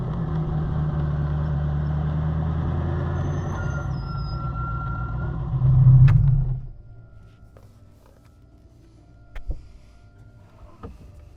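A Ferrari F40 LM engine held at a loud, steady drone then swells into a brief deep burst of back pressure before cutting away, leaving a quiet background with a couple of faint pops and knocks.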